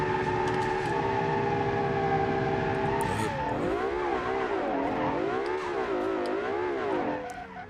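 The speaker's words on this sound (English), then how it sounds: "All-wheel drive driftage." All-wheel drive manual car drifting in BeamNG with traction control off: steady engine drone at high revs, then wavering, sliding pitch sweeps as the tires squeal through repeated drifts, loud and continuous throughout.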